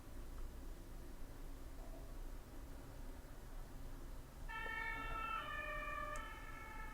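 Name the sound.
police siren in Warcraft 3 video game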